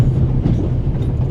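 Steady low rumble of a train rolling over rails in the adventure game The Raven Remastered, with faint clickety-clack from the wheels throughout, continuous and fairly loud with no talk.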